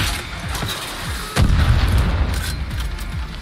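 Mortar fire in Far Cry New Dawn, a series of booming detonations with one heavy blast partway through, sounding close and loud over rumbling battle noise.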